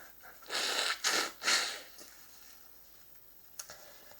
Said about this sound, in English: I'm sorry for blowing my nose